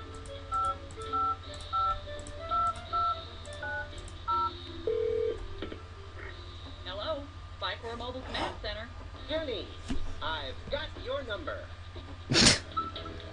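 Touch-tone beeps dial a telephone number in the video game Spy Fox, a run of short, evenly spaced tones at a steady rhythm, followed by talking and a sharp closing burst under a low electrical hum.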